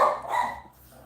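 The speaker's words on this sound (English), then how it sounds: "my dogs are saying hello too" Dogs barking a greeting in a home, a couple of close, loud barks in quick succession that fade into quiet room tone.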